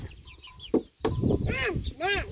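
Chickens clucking nearby in a rural Thai farmyard, short rising and falling calls repeating in quick bursts, mixed with nearby voices talking.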